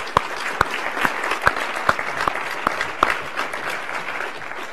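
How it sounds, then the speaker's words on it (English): Applause from an audience at a public forum on foreign policy in Minnesota, a soft bed of many hands clapping with several sharp, distinct claps standing out near the front, fading slightly at the end. "Let's get another round of applause for our great speakers."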